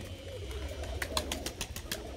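Ornamental pigeons released after rain coo softly nearby, with a burst of wing flapping in the middle, over steady low background noise.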